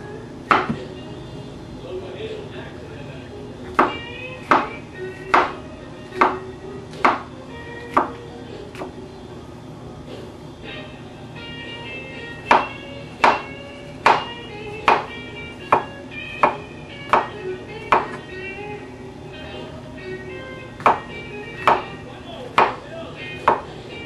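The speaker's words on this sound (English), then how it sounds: "I'm going to leave them pretty whole, just kind of slice them as they look" Knife slicing four brown mushrooms on a board, giving crisp, evenly spaced chops in two runs of rapid strokes with a short pause between, close and distinct with no talking.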